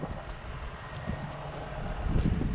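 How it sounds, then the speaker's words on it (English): Wind rushes across an open farm field and buffets the microphone in low, rumbling gusts, steady and fairly loud with a stronger swell near the end, no voices. "It's quite windy out here."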